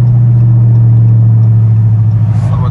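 Straight-piped 2020 Dodge Scat Pack 392 with no cats, mids or rears and stainless headers and midpipes, a loud close deep steady exhaust rumble under light throttle.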